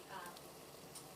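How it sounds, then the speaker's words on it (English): Fresh cranberries simmering in a pot for a vegan, gluten-free mushroom stuffing, a faint continuous bubbling hiss with occasional soft pops, steady and close, no voices. "I've been boiling some fresh cranberries there"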